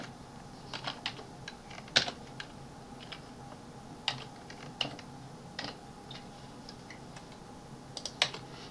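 Keys on a computer keyboard are tapped in Mathcad, irregular clusters of quiet, close clicks with short pauses between them over a soft background hiss.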